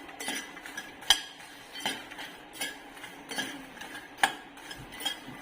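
Roasted makhana being stirred with peri peri masala in a metal pan, a spoon scraping and clinking against the pan in a steady, unhurried rhythm with a few sharper knocks.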